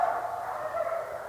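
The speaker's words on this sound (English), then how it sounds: "neighbor's dogs are having fun" A neighbor's dogs bark and yip in the distance outdoors at night, faint, muffled and continuous over a short stretch with no talk.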